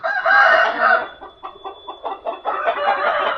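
A Thai-Burmese crossbreed fighting rooster crows loudly and close, a long strained call followed by a series of short choppy bursts.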